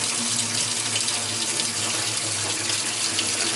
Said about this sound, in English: try to put hot water in